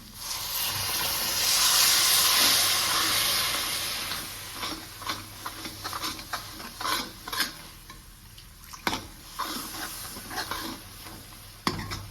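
Water poured into frying masala in a kadai for a pumpkin curry brings a loud hissing surge of sizzle that settles into quieter crackling, with repeated metal spoon scrapes and clinks against the pot.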